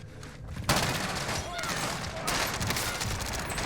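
Rapid gunfire bursts in a Warzone match in Verdansk, dense crackling shots and booms layered continuously over game ambience, with a player voice talking over the action.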